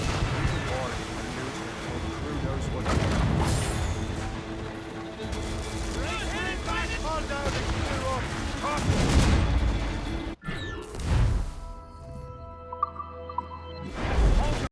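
Naval cannons boom at an enemy ship in Assassin's Creed Rogue, heavy repeated blasts over a busy battle din with shouting crew, music and a voice talking throughout.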